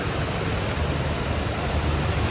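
Steady rain pouring down during a monsoon shower, a dense, loud, even wash of drops on surfaces with no voices heard.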